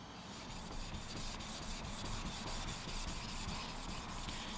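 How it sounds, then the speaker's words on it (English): A blue #1 carbon steel knife with soft carbon cladding being sharpened on a Gesshin 1200 grit splash-and-go whetstone: a continuous, even, gritty rubbing with faint rhythmic strokes, quiet and close, without speech. "Next up, we're going to sharpen a carbon steel knife. This is blue number 1 with soft carbon cladding."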